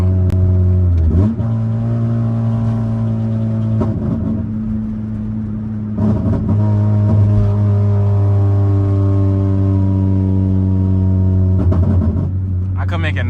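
A Honda Accord with a 6-speed manual, its engine droning and revving through gear changes, with a few crackling exhaust pops as the throttle is eased; the engine runs steadily and loudly throughout while people talk over it.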